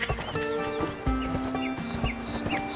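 Horse in the ArcheWorld MMORPG game, rhythmic hoofbeats with a whinny over game music, fairly quiet.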